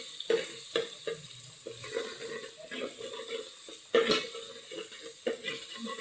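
A spoon scrapes and stirs roasted onion with turmeric powder in a pan. Irregular scraping strokes and soft clacks sit over a faint sizzle, with a sharper knock near the middle.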